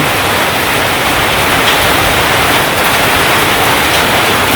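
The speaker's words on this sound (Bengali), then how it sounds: "হঠাৎ করে বৃষ্টি শুরু হয়ে গেছে" Sudden heavy rain in a village falls as a loud, dense, steady wash of noise that stays constant throughout, with no voices.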